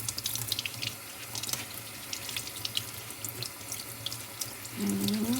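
Shaggy ink cap mushrooms (Coprinus comatus) are rinsed under a running kitchen tap, with a steady nearby splash of water and occasional louder gushes as they are handled.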